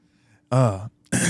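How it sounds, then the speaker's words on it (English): A short rough throat clearing, two quick harsh bursts close up, with quiet room tone before it. "we're clearing our throats"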